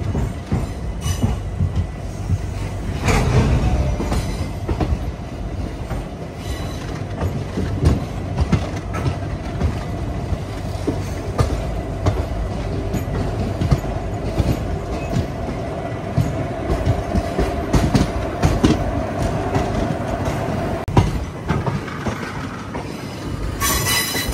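The Andaman Express passenger train runs at speed through Telangana, a loud continuous rumble of wheels on rails with rattling carriages and occasional squeals, heard from inside the train with no talk.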